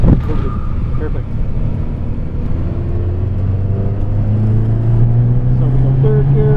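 A Fiat car engine accelerating on a race track, a loud, steady, close drone whose pitch climbs through the gears over wind and road rumble.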